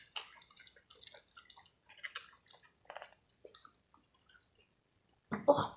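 Close, loud chewing of food during a sauce tasting, irregular crunchy bites and mouth sounds coming in short bursts separated by brief pauses, with a louder burst at the end.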